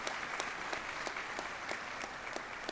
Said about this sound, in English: First round of applause.